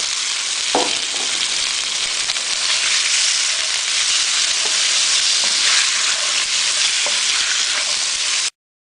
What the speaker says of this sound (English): we just want to stir fry it until it is thoroughly brown